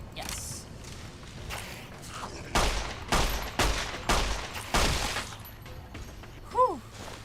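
A 9mm pistol fires in Fallout: New Vegas, five or six sharp shots spaced about half a second apart, fairly loud against a quiet backdrop, followed by a brief high creature cry.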